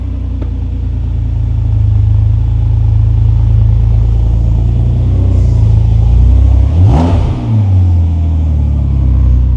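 A modified Renault Clio hatchback engine rumbles loudly at a deep, steady idle, then swells into a sharp rev as the car pulls forward, settling back to a heavy, meaty burble close by.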